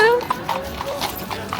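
Horse hooves clip-clop on a street in Vienna, a brief quick run of hoof knocks with people talking over them.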